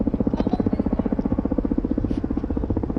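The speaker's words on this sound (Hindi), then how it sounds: "Welcoming the Prime Minister are Kamov 31s, the Nausena के Eye in the Sky" Kamov 31 navy helicopters fly over Miramar Beach in Panaji, Goa, their rapid rotor thumping pulsing steadily and loudly with a low engine drone beneath.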